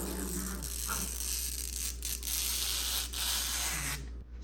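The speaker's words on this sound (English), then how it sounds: "Scraped off some excess gasket material around this, wiped it down real good." Excess gasket material scraped off a big block Chevy engine block surface: a continuous close rasping scrape with brief pauses, fairly loud and steady, with no talking.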